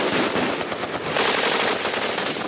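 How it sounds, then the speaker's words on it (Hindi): Rapid machine-gun fire in a war narration, a loud, dense and continuous stream of shots with no voice over it. "वो खुद भी आतंकियों पर गोलियां चलाने लगे।"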